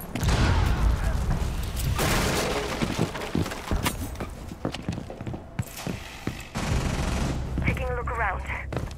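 Gunfire rattles through a tense round of the Rainbow Six Siege video game, with dense bursts and sharp cracks crowding the mix, a heavy grenade-like blast among them, and a voice speaking briefly amid the shooting.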